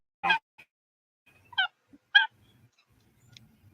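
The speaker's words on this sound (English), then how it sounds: "These are Blue Jays. Yeah. And Blue Jays are just not playing around." A few harsh, honking blue jay calls ring out one after another, spaced apart with quiet gaps between them, fairly close and clear.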